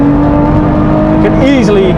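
A 2017 Lotus Evora GT430 on a race track, its engine droning loud and steady at high revs from inside the cabin, the pitch dipping and wavering as power is cut back, with a voice talking over it.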